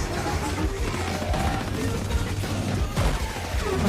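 Sustained gunfire from guards' weapons in an action film, dense bursts of shots over a continuous rumbling background of effects and score, loud and busy throughout.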